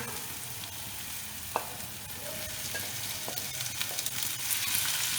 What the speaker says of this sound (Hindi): टमाटर हल्के से भूनेंगे।